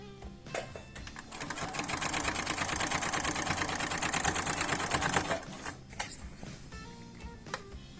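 A sewing machine runs steadily for about five seconds, stitching a quilt border strip onto the main panel, with rapid even needle clatter that stops abruptly, followed by a few light handling clicks.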